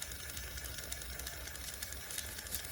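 A diesel engine on a remote-controlled walk-behind tractor, newly assembled, runs steadily at idle with a low rhythmic chug and a faint mechanical rattle, fairly quiet and without speech.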